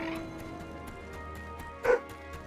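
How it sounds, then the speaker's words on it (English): A dog barks once in a home, a short, moderately loud bark standing out from a quiet room with faint background music. "Oh, the dog."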